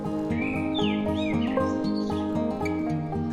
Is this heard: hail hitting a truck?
no